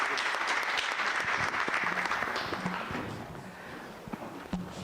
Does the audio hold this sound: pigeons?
no